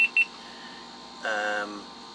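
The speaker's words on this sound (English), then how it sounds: "why is that beeping like that? that was the GoPro." Two quick high electronic beeps, then a longer lower tone a moment later, all in a quiet setting.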